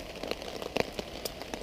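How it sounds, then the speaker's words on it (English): Rain drumming on the top of a camp shelter, scattered patters and taps of drops landing irregularly on the covering, fairly close and soft, with no voices. "the sound of the rain drumming on the top"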